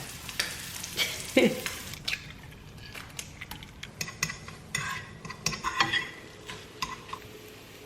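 Sausages cook in a kitchen pan with a quiet, steady sizzle, punctuated by scattered clinks and taps of a utensil against the pan.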